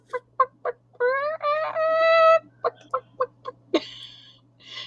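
A voice imitates a chicken clucking, with a rhythmic series of short, close clucks broken by a couple of longer, drawn-out squawking calls.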